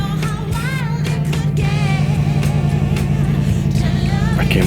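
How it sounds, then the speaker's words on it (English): A nearby car engine runs loud and steady with a strong low hum, with faint pitch swells that suggest light revving, heard from inside a parked car on a winter fishing trip. "I can't believe somebody started their car. It sounded that loud."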